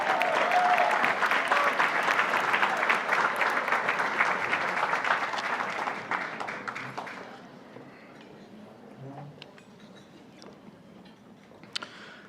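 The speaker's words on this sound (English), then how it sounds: "Give Brandon a round of applause." Gala guests applaud as a speaker is welcomed to the stage, a full burst of crowd clapping for about six seconds that thins to a few scattered claps and quiet room noise.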